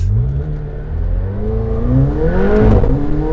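McLaren 720S sports car engine revving up loudly and close, a rich rising growl that climbs steadily in pitch over a few seconds.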